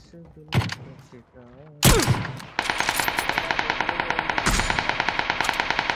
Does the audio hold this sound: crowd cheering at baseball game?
no